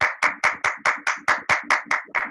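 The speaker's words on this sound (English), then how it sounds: "So round of applause for Toastmaster Derek Roll" Steady rhythmic clapping at a Toastmasters club meeting honoring Toastmaster Derek Roll, about ten evenly spaced claps over two seconds, close and fairly loud with no voices.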